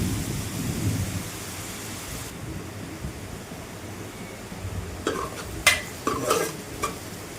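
Pepper chicken fries in a pan with a low, rumbling sizzle and soft crackle, followed by a few sharp stirring scrapes near the end, close and moderate in level.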